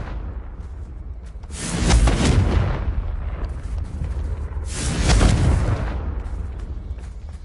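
A Confringo spell blast erupts in a video game, two loud booming explosions about three seconds apart, each with a rumbling, crackling tail.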